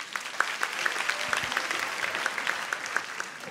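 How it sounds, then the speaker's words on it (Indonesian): Audience at an Indonesian stand-up comedy show claps steadily for about three and a half seconds, a dense, moderately loud patter of many hands with faint crowd murmur beneath and no distinct talk. "Tepuk tangan buat Yuda."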